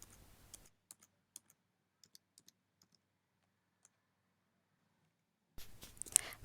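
Sparse, faint computer keyboard keystrokes are heard as bank account details are entered in Tally Prime accounting software, tapping at irregular intervals in near silence between brief bursts of noise.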